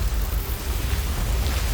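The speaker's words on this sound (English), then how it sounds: "Why is it still raining sand?" Sand pouring down on a planet in the video game Outer Wilds: a steady, loud, rushing hiss with a deep rumbling undertone, continuous and without a break.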